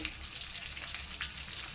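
Food frying in oil in a pan gives a faint, steady crackling sizzle with scattered pops, heard alone without talk.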